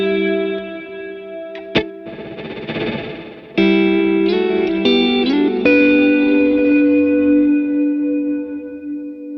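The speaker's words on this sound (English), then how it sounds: "Here's another cool ambient preset" Guitar played through an ambient reverb preset on a BigSky pedal: chords and notes bloom into a long, lush wash with shimmering tails that sustain and slowly fade, played alone.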